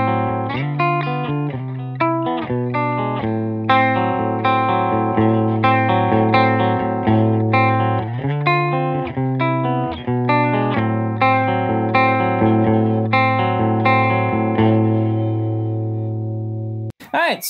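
Electric guitar played through a Jam Pedals Rattler distortion pedal into a 1967 Fender Bassman amp, a loud, steady run of distorted chords and single notes with sustained ringing tones, alone and close.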